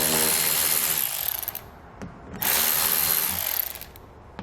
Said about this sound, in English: We'll use a 10mm socket for the plastic nut and a 7mm socket